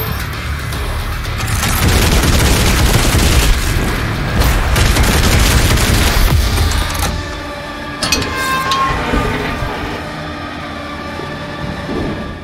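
Shotgun blasts and combat noise from DOOM Eternal form a loud, dense barrage of booming bursts for about seven seconds, then drop to a lighter rumble with scattered sharp hits.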